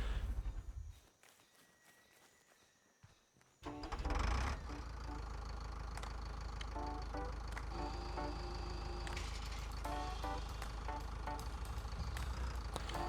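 A tractor engine in the farming game Pure Farming 2018 pulls a cultivator. After a few quiet seconds it kicks in as a loud, steady, low droning rumble that holds to the end.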